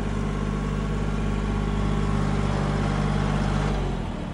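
A small tractor carrying a swapped-in big, heavy engine runs at a steady, loud idle close by, its low rumble holding even throughout with no one talking.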